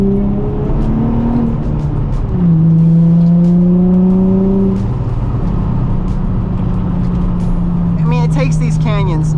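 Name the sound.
Nissan 350z accelerating after downshifting to second gear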